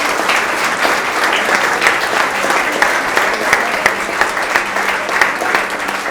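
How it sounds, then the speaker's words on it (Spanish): Church congregation giving loud, sustained applause for families, dense steady clapping from many hands filling the room at close range. "Le damos un fuerte aplauso a estas familias."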